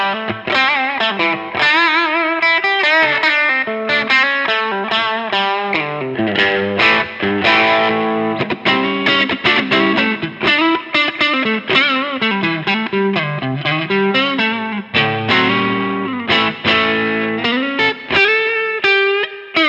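Electric guitar through a Wampler Germanium Tumnus overdrive pedal with gain and treble at midday, a continuous mildly driven melodic lead line played steadily and loud, no voices.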